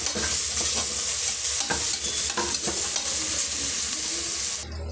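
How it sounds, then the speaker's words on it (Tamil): Soaked rice is sautéed in a hot pan for coriander pongal. A continuous close sizzle runs under repeated scraping stir strokes, then cuts off abruptly near the end. "இப்போ இதையும் சேர்த்து நம்ம நல்லா வதக்கி விட்டுக்கலாம்"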